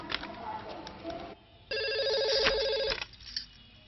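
In a Telugu film scene, a telephone rings with one sustained electronic burst over a low, busy background, with faint voices before and after.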